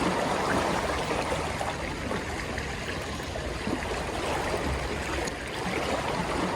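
River water rushes into a sinking boat in the rain as a steady, loud, broad gush that stays constant throughout.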